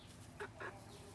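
Hens in a small new coop give two short, quiet clucks over a faint low background hum.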